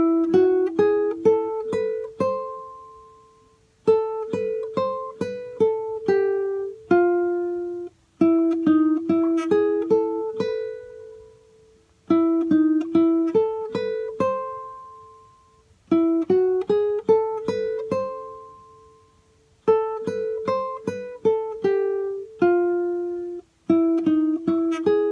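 Acoustic guitar picking a Nicaraguan folk ballad intro phrase, clear plucked single notes in repeating melodic runs with brief pauses between phrases, played alone and close.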